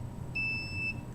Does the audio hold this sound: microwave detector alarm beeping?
yes